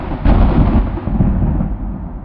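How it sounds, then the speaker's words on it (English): A heavy roll of thunder rumbles low and loud, swelling early then slowly fading away over a couple of seconds. "there's a whole bunch of preset sound effects in here like thunder"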